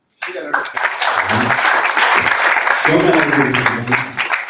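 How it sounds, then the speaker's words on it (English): Audience applause at a tech community event, breaking out suddenly and continuing loud and dense, with voices and scattered cheers mixed into the clapping. "let's give a big clap to Joseph"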